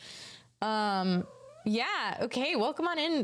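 A cat lets out several drawn-out, wavering meows close by, overlapping with a person talking.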